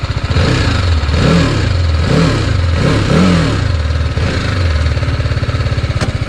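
A TVS Apache RR310 motorcycle engine runs steadily at close range, its throttle blipped into several quick revs before settling back to a rumbling idle.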